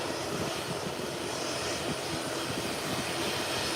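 A British Airways Boeing 777 taxis into its parking stand at an airport, its jet engines giving off a steady, broad roar that holds loud and constant throughout, with no talking.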